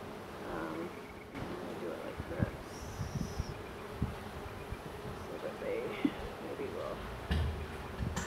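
Honeybees buzz steadily around an open hive during an inspection, a dense droning hum close by, with occasional knocks and rustles of frames being moved.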